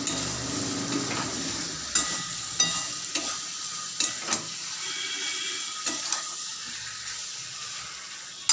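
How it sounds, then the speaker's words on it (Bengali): Soya chunks frying in a pan with spices while being stirred, steady sizzle with irregular scraping and knocking of the spoon against the pan, close and moderately loud. "এখন সমস্ত মশলার সাথে নেড়ে চেড়ে 1-2 মিনিট"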